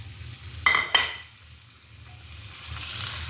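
Marinated mushrooms drop into hot oil in a pan, giving two quick sharp sizzling bursts followed by a softer, steady frying hiss that rises again toward the end, with no voices.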